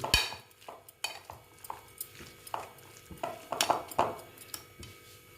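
Egg and bread being mixed together in a bowl, with a series of irregular clinks and scrapes of utensil against the dish spread over a few seconds, fairly close, without any voices.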